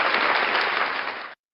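Sustained applause from a studio audience fills the space steadily, holding loud and even before cutting off abruptly.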